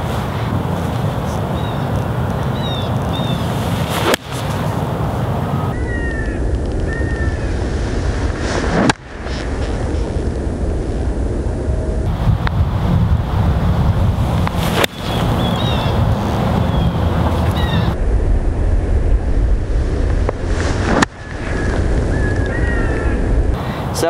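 Steady wind blowing outdoors on a golf course, a continuous loud rushing roar with gusty low rumble that runs throughout, broken by a few brief sharp thumps.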